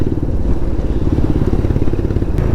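A motorcycle rides along a bumpy road abroad in Nepal, its engine a loud, continuous low rumble with rough vibration and clatter, close and steady throughout with no talk.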